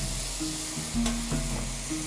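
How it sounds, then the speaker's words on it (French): Very hot chicken stock is added to Camargue rice toasting in a pan for risotto. A close, even sizzle and bubbling comes with a few stirring knocks, and faint tonal whines sound over a low background hum. "on va incorporer du bouillon de volaille qui sera très chaud"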